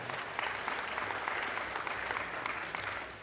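Audience applause at a conservative political summit, a continuous, fairly distant wash of many hands clapping that holds steady for a few seconds with no talking over it.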